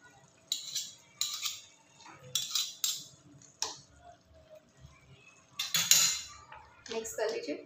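Pav bhaji is stirred with butter in a pan, bringing several sharp metal clinks and scrapes of a spoon against the pan in irregular bursts with quiet gaps between, and faint background voices.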